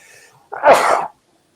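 A single sharp sneeze bursts out close by after a faint background murmur, followed by quiet.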